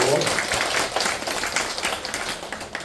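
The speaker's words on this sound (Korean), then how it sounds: "하나님께 영광이 박수 들어가시고" Applause from a congregation at an evening church healing and gospel service, a short burst of scattered clapping in a room with some voices mixed in.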